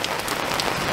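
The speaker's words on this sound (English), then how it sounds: "our day's getting rained out right now" Steady rain pouring down on a Kentucky RV park campsite during a summer storm, a dense, even patter of drops hitting surfaces close by, with no one speaking.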